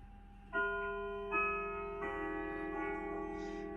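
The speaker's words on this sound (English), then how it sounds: "We'll have a listen to the sound of the chime now. At the quarter hour," Westminster quarter-hour chime from a 217 cm rustic oak grandfather clock with moon dial, a short sequence of several ringing gong tones struck one after another close by, each sustaining and overlapping with a faint tick beneath.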